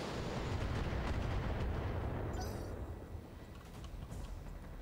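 Mech weapons fire in the video game Battletech as a steady, heavy low rumble of blasts and booms that swells and then eases slightly, loud and continuous with no voices.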